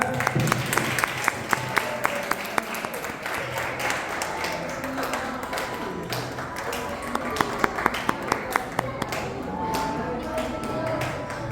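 Relatives at a family get-together clap in scattered bursts, a light patter of hands near and far, while people talk over it.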